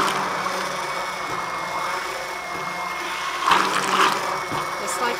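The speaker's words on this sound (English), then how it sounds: "I'm going to blend it up, leaving some of the herbs not too chopped up" A blender whirs steadily while blending an herb salad dressing, leaving the herbs slightly chunky. The drone is close and continuous, swelling louder and harsher for a moment near the end before easing back.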